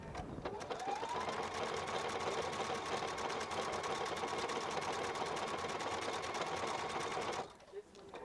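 A Husqvarna Viking Epic 2 sewing machine stitches embroidery with a steady, fast mechanical whirr and rapid needle ticking for about seven seconds, then stops abruptly.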